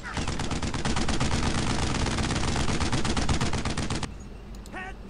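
Dense machine-gun and rifle fire in the World War II shooter Brothers in Arms: Road to Hill 30: a loud, rapid, continuous burst of shots lasting about four seconds, then stopping abruptly as a voice is heard beneath the quieter background.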